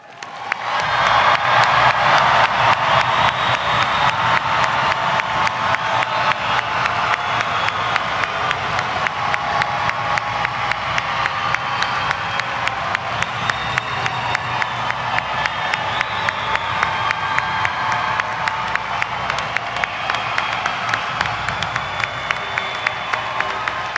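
A large crowd at a university graduation ceremony cheers and applauds loudly, sustained clapping and whooping filling the hall for over twenty seconds without letup.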